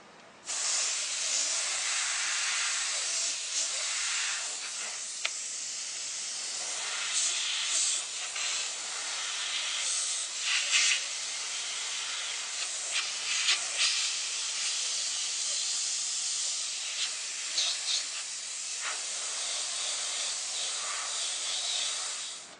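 A paint spray gun blows red paint across a stencil in a long continuous hiss, close and steady, with small surges and flutters as the gun moves over the edges and no talking.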